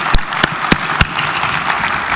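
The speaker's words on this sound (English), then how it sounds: "So show a huge round of applause for Dalitso and Bright." An audience at a 2017 hospitality industry conference in Africa applauds, with a steady wash of clapping and a few sharper claps standing out near the start, fairly loud and without talk.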